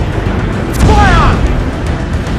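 A ship's cannon going off during a naval fight in Assassin's Creed IV Black Flag, one muffled boom with a brief whistling tail, sitting in a steady low rumble of battle noise.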